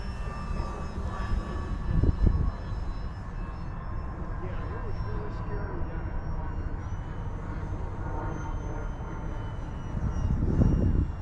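An Arrows Hobby P-51D Mustang 850mm RC model warbird whines steadily overhead at a flying field, with a faint electric motor tone and wind gusts while someone talks throughout.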